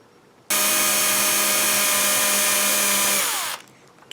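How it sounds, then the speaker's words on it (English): A small drill bit bores slowly into 3D printed resin with a loud, steady whine that holds for about three seconds, then winds down and stops. No voices. "you want to drill very, very slowly into this 3D printed resin"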